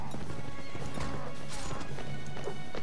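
Hooves of a galloping horse in the video game Mount & Blade Warband, crossing a snowy landscape: a quick, steady clip-clop rhythm up close, broken by a short whinny and a few sharp impacts, with no talk.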